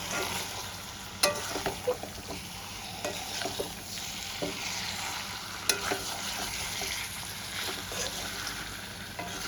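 Chicken with raisins (kishmish chicken) sautéing in a pan, giving a dense, steady sizzle and fry hiss throughout, with a few sharp clicks of stirring. No voices.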